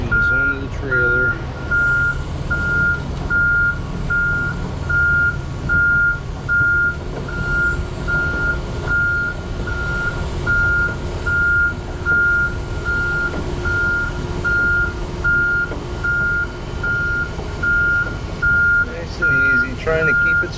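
A heavy haul truck's reversing alarm beeps in a steady, evenly spaced rhythm while machinery is loaded onto a trailer, over a constant rumbling diesel engine.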